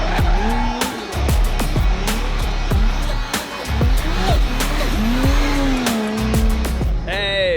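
A drift car on a track with a crowd present slides with long, loud tire squeals that rise and fall over a roaring, revving engine, with repeated bursts of screech close by and sharp pops between them.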